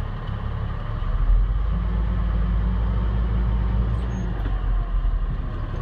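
A Class A truck idles and pulls forward slowly for a service brake test, a steady low engine rumble that holds close and even throughout with no talking.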